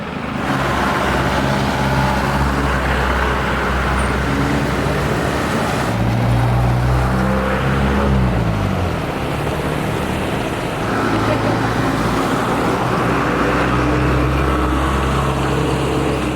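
Steady low rumble of road traffic in Baguio, Philippines, with idling and passing engines and exhaust close by, continuous throughout, with faint voices in the background.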